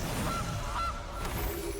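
A goose honks a few times in quick succession as a Goose card is played in the MTG Arena digital card game, over a steady background game soundtrack.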